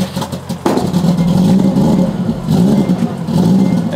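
A tuned race car engine fires up after a short crank and revs hard in loud, close bursts, with a brief easing between two long pulls.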